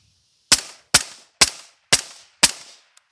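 An M4-style rifle with a 14.5-inch barrel and a long reflex suppressor fires five evenly spaced, loud, sharp shots at a steady rhythm, each followed by a brief decaying tail, with a faint click at the end.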